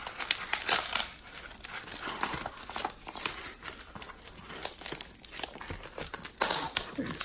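Packing tape being pulled and torn off a cardboard package, loud close crinkling and ripping in continuous bursts with brief dips.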